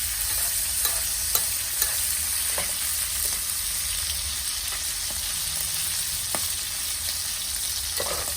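Steak frying in butter with rosemary, a continuous bright sizzle close up, punctuated by several sharp taps and scrapes of a utensil in the pan.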